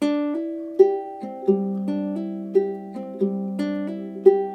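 A baritone ukulele fingerpicked in Pima style on a song's intro, plucked notes falling in a steady rolling pattern with accented thumb strikes roughly every beat, clean, close and moderately loud, no voice.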